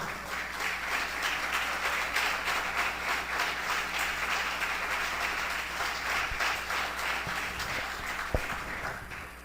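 Steady applause fills a church service, a dense even wash of clapping from the congregation that holds for several seconds at moderate volume, with a single sharp knock near the end.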